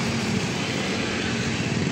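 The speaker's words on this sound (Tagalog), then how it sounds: "May pumasok na isang motorsiklo." A motorcycle rolls into a roadside gas station, its small engine giving a steady, even drone close by, with no voices over it.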